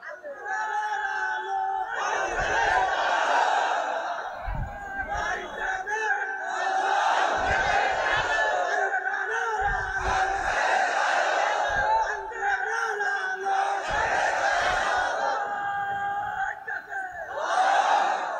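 A large crowd at an Islamic sermon gathering shouts a slogan back in unison, repeated loud collective chants alternating with a preacher's amplified voice leading the call.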